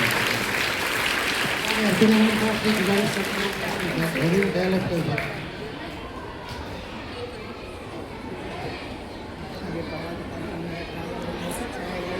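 Sustained applause from a crowd of schoolchildren at a student competition fills the room, fading to scattered clapping and chatter with voices speaking over it.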